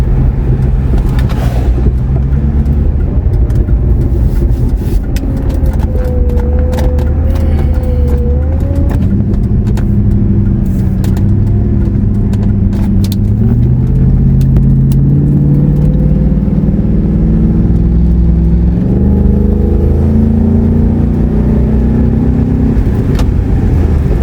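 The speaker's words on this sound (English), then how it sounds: "But it's a weird vibration for an engine vibration, for an internal vibration." A car engine runs steadily with an odd internal vibration, a loud continuous low rumble whose pitch drifts and rises slightly as it warms up, with no talking over it.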